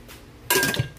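A lid is set onto a cooking pot of pork rib sinigang with tomato and taro; one sudden metallic clank and rattle about halfway through, after near silence.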